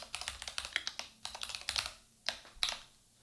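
Someone types text on a computer keyboard while editing a graphic, producing a quick, close series of crisp key taps in short clusters with brief gaps.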